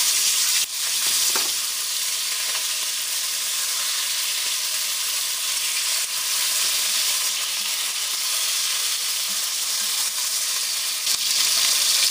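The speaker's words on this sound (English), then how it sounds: "with plenty of olive oil, brown your ribs on all sides" Short ribs browning in plenty of olive oil in a pot, a steady, loud sizzle and crackle of frying that runs unbroken throughout, with small pops and faint stirring scrapes.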